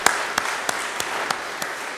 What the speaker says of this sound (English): Coy and Joan, will you give them a round of applause?